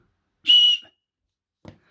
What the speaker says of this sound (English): And this has a whistle too.